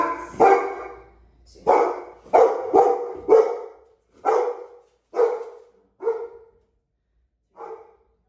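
A dog barks nine times, loud and close, in an uneven series of single barks with short gaps that grow longer toward the end.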